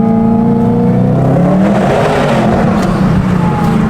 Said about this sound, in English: I might have to indulge in a little bit of exhaust therapy